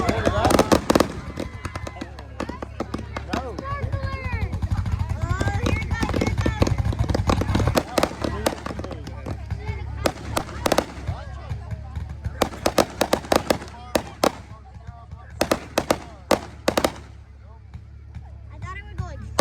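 Fireworks crack and pop in irregular bursts, some distant and some sharp and near, scattered through a noisy outdoor crowd with people talking and exclaiming throughout.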